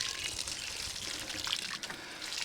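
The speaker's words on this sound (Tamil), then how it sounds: "மேலேயும் தண்ணியை விடுவோம் நாங்கள்." Water is poured and trickles over strawberry plants in a hydroponic growing system, a soft, continuous splashing patter with a faint dribble, close but fairly quiet.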